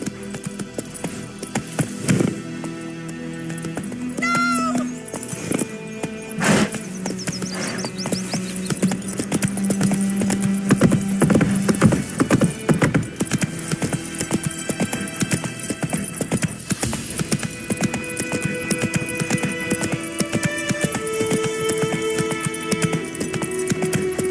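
A horse gallops in the video game The Witcher 3, a steady rhythmic clip-clop of hooves running continuously under a dense bed of game music and mechanical hum.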